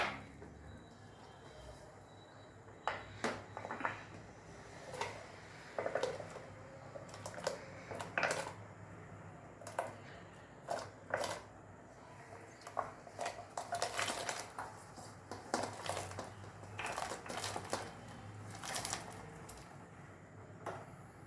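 Dried turmeric roots go one by one into a pot of boiling water at home, giving faint, irregular sharp knocks and clatters over a low simmering background.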